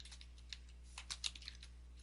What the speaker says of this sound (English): I could type in here how to configure